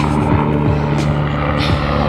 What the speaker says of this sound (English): Can you hear that helicopter?